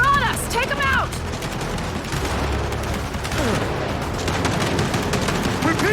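Machine gun turrets fire in Gears of War 5, dense automatic gunfire rattling continuously under shouted voices, explosions and game effects throughout.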